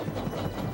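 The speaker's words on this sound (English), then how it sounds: "Who's that puffing down the track?" A steam engine train on a railway in a Thomas & Friends children's show: a short stretch of continuous rumbling, clattering train movement at a steady level, with no voices.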